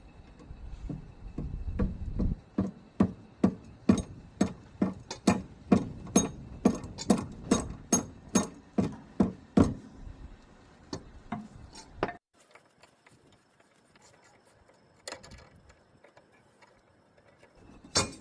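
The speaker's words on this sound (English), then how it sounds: "I'm gonna use a hammer to tap it in." A hammer taps the metal anti-roll bar link mount on a Mazda 5 rear suspension in a steady run of sharp, ringing strikes, about two per second, then stops, leaving a few faint knocks.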